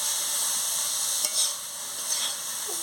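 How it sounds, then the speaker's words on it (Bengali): Banana stem curry cooked with mustard paste being stirred in a pan, a steady soft sizzle with a couple of faint scraping strokes, no voices. "খুলে নিয়ে ভালো করে নাড়িয়ে নিচ্ছি।"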